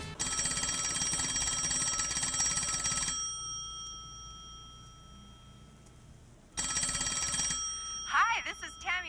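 A telephone rings loudly with a bright electronic trill, pausing in silence for a few seconds before ringing again, followed by a brief warbling tone at the end.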